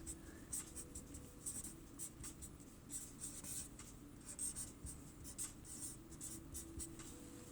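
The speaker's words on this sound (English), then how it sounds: "So I'm just going to write over here in dry erase." Dry erase marker writing close by in a quiet room: a run of short, squeaky strokes and taps with brief pauses between letters.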